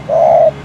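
A single wild dove gives one short, clear coo, close and loud, against a quiet background.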